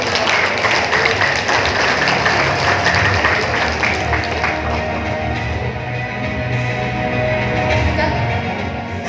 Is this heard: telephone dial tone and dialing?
no